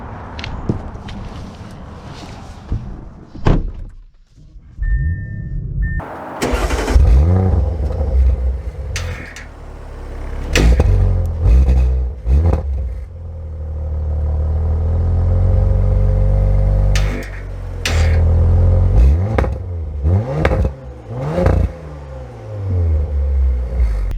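A 2023 Audi RS5 engine starts and the car pulls away, with revs rising and falling in a deep, loud rumble, some clatter and shifting tones, and no voices over it.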